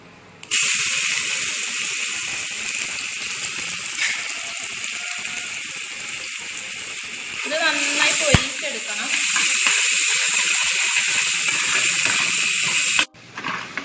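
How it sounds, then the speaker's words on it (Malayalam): Garlic, ginger and green chilli masala frying in a non-stick pan, a steady loud sizzle and hiss throughout with a brief stir near the end before it cuts off. "ഇത് നോൺ സ്റ്റിക് പാത്രത്തിൽ തന്നെ ഇങ്ങനെ പൊരിച്ചെടുക്കണം"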